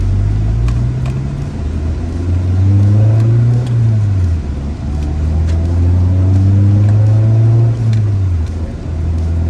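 Car cruising in fifth gear just after a transmission repair, a steady low engine drone that rises and falls gently with throttle, heard from inside the cabin with no speech.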